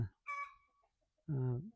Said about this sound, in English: also the chickens are making a nice